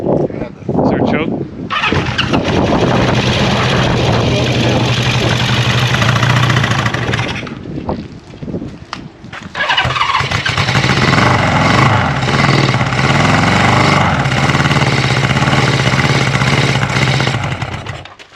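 A 1974 Honda CB550 motorcycle engine cranks and catches, idles roughly, stutters and nearly dies, then restarts and settles into a steady loud idle, with people talking close by.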